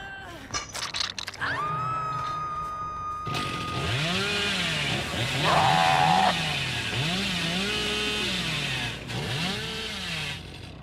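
Chainsaw engine in the video game Dead by Daylight revving repeatedly in rising and falling whines, with clicks and mechanical clatter at the start and a steady buzz throughout.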